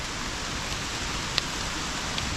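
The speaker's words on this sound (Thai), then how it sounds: "ฝนตกแบบนี้" Steady rain falling in the early morning, a dense, even hiss with no break and a couple of faint individual drops standing out.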